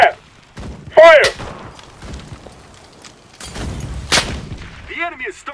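Artillery barrage in the shooter game Enlisted, with several heavy booms and thuds spread through the stretch, some sharp blasts close by and others duller, mixed with game radio voices and chatter.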